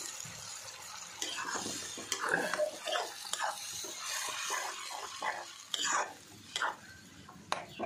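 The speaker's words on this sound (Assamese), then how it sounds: "পালেংখিনি দি দিছোঁ, সেইখিনি দি অকণমান লৰাই লৈছোঁ" Spinach is stirred in a pan on a gas stove, with soft, wet scraping and shuffling at low volume and a faint watery hiss in the background.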